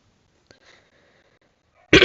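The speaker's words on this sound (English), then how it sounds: "God damn my cough." A single sharp, loud cough right at the end, after near-silence broken only by a faint breath or click.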